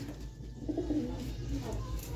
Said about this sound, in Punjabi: ਚਿੱਟੀਆਂ ਅੱਖਾਂ ਕਾਲੀ ਨੋਕ ਆ ਬਾਈ ਜੀ ਸਾਫ ਚਿੱਟੀ ਕਬੂਤਰੀ ਆ ਬਾਈ